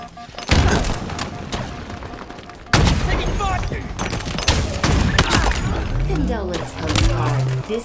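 A sniper rifle fired without scoping in Halo Infinite: two sharp, loud shots a couple of seconds apart, each followed by dense in-game combat noise and rumbling effects.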